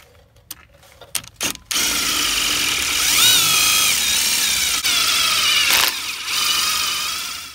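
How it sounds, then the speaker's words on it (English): A power drill whines steadily as its oiled bit bores into a broken hardened steel bolt, loud and close, after a few short clicks and bursts at the start. "We don't want to totally burn out the drill bit."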